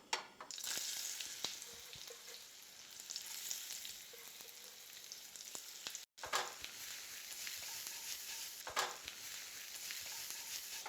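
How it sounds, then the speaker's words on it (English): Green beans sauté in butter in a pan with a steady, close sizzle and crackle, broken by occasional stirring clatter and a brief pause before the frying hiss resumes. "So sauteing in a bit of butter."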